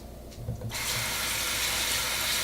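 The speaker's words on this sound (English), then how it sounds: "So first thing I like to do is to wash the rice." Rice being washed under a running kitchen tap: a soft rustle of grains comes first, then the faucet opens to a steady, loud hiss of pouring water that continues to the end.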